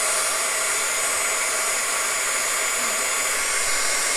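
A heat tool blows hot air to melt rose gold embossing powder, a loud, continuous close-up whirring hiss with no break for the whole stretch.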